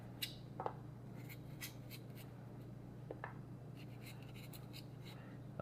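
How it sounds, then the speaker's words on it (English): Fresh ginger being peeled with a knife in a home kitchen, a run of soft scraping strokes and light clicks, close and quiet over a low steady hum, with no talk. "I'm peeling the ginger."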